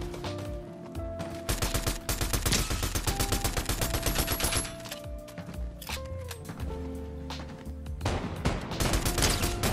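Rapid gunfire crackles in a Fortnite match, with dense bursts of sharp shots layered over game music and fluctuating in intensity for several seconds.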